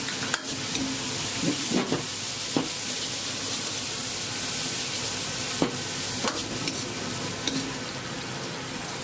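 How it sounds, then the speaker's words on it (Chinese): A Sichuan dish is stir-fried in a wok with seasonings such as salt, sugar and pepper, giving a steady loud sizzle and hiss punctuated by scattered scraping clanks of the stirring utensil. "胡椒粉，翻炒均匀。"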